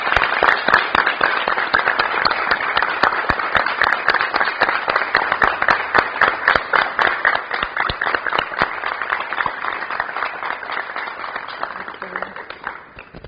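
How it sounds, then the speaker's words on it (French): A studio audience applauds at length to welcome a guest onto a French talk-show stage: dense, steady clapping with sharp individual claps, loud and close throughout, fading slightly at the end. "Nous recevons Michel sous vos acclamations, s'il vous plaît."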